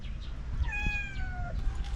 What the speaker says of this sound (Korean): 저기도 고양이가 있어